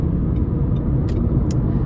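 A Renault Clio Touch with the automatic gearbox and 1.0 TCe engine accelerates gently on asphalt, giving a steady low engine rumble and road noise inside the cabin, with a couple of faint clicks and no talking.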